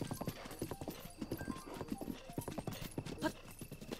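Horse hooves clip-clop at a riding pace in the video game The Legend of Zelda: Breath of the Wild, steady rhythmic hoofbeats over soft in-game ambience with a faint whinny, fairly quiet.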